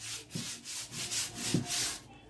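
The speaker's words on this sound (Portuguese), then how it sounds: "Sempre lixando" Rhythmic scratchy strokes of hand sanding a milk-carton vase, back and forth about six times at a steady pace, close and fairly loud.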